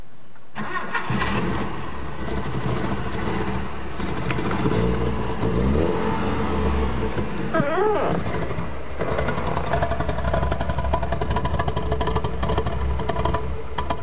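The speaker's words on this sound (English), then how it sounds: "It's probably not going to idle itself because it's a lumpy bitch." A car with a lumpy idle, Mitsubishi GSR IV, cranks and fires up, then settles into a loud, uneven, loping idle that continues close by while a person talks briefly.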